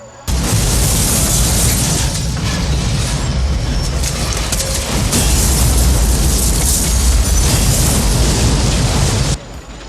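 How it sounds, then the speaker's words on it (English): A massive ship blows up in Boston Harbor in a film scene, a loud sustained roaring blast with crackling debris that fills nearly ten seconds at full intensity before cutting off abruptly. "When it detonates, we are treated to what is, in my opinion, the greatest explosion ever put on film."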